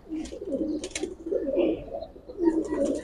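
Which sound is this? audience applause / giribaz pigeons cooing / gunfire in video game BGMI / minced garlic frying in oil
giribaz pigeons cooing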